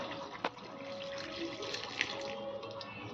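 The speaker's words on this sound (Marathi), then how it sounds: "पाणी घालून घेऊया" A thin stream of water runs steadily into a pot of colocasia leaf curry with chickpeas, quiet and close, with a few soft clinks.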